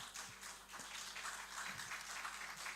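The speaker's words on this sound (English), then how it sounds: "I think we've all a round of applause for them" Steady applause from an audience at a student congress, a dense wash of many hands clapping at once, sustained and fairly even throughout.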